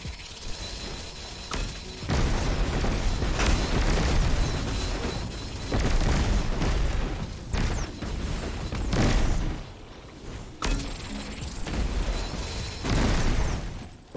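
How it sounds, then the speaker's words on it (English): Explosions and bursts from a grenade toss in the Star Wars: The Old Republic video game, a dense run of loud booms and crackling blasts that keeps going throughout with short gaps, no talking over it. "And I could still toss a grenade apparently."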